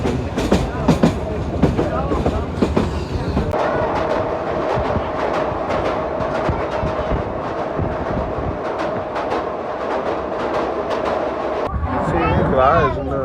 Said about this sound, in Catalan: És un tren de guiris total.